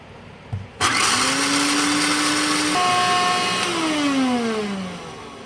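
A blender grinds puppy food for 54-day-old puppies, starting with a short knock and then whirring steadily and loudly, its pitch rising as the load thins, then winding down near the end with no talking.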